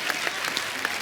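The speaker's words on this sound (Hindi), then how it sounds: "यार एक बात के लिए तो तालियां बनती हैं" A studio audience at a comedy talk show claps in a brief, dense burst of applause, close and continuous for about a second.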